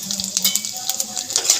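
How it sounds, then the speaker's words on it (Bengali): Cumin seeds and bay leaves tempering in hot oil in a pan for a prawn curry: a bright, steady sizzle with light crackles and a faint stirring scrape, close and loud, without talk. "ফোড়নটা একটু ভেজে নেব।"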